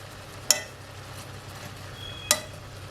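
Food frying in a pan as it is flipped, a low steady sizzle with two sharp utensil scrapes or clacks spaced about two seconds apart, fairly quiet and with no talking.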